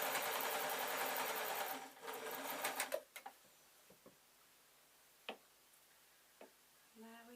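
A modern sewing machine stitches a purple bat wing dress, running in a loud, fast, even whir for about three seconds, then stopping, followed by a few scattered clicks and light handling taps.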